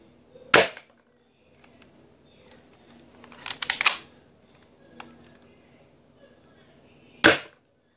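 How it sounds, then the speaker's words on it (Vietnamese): Sharp, loud single shots from a powerful airsoft gun, three main cracks spaced seconds apart with a brief cluster of smaller clicks and rattles between them, close and otherwise quiet. "Mình mới bắn mấy phát rồi"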